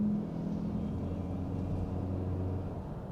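A Nissan Juke Hybrid engine labours through a gear change, giving a steady low droning hum with a sustained tone that holds at an even level throughout, with no talking.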